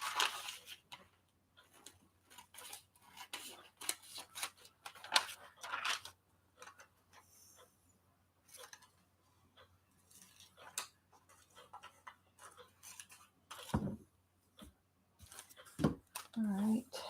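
Scissors cut through a glossy magazine page in a series of short, crisp snips with pauses, close and fairly quiet, with a voice talking at intervals.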